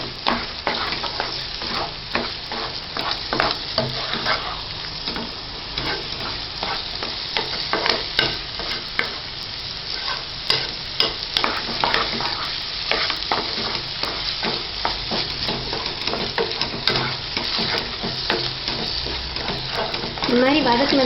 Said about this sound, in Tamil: எண்ணெயில் கொஞ்சம் நல்லா வதக்கிக்கோங்க.